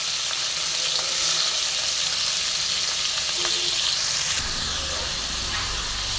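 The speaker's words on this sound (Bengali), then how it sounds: "দেখো, একটু ভেজে নেবো মাছটা আমি।" Shrimp coated in salt and turmeric frying in a pan, a steady broad sizzle throughout with a deeper bubbling surge near the end, no talk.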